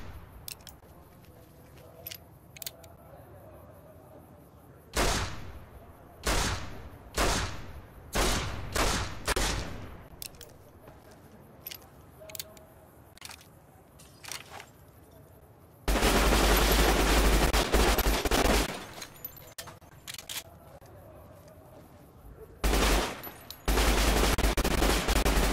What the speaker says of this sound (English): I hate barrels, so I shoot them whenever I see them.